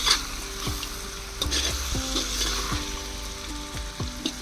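Chicken stirred in a kadai for biryani over a wood-fired stove, a continuous crackling sizzle with repeated scraping strokes of a spoon against the pan, close and fairly quiet, without speech.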